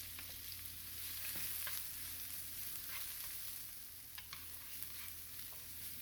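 Onions and garlic sauté in a pan for Guyanese-style fried potatoes with salted fish, producing a quiet, even sizzling hiss with occasional faint stirring taps.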